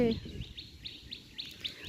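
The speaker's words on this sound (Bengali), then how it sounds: "শুনতে পাচ্ছ কত পাখি ডাকছে" Several small birds chirp near a rooftop on a breezy afternoon, their bright calls repeating every few tenths of a second over soft wind and low background noise.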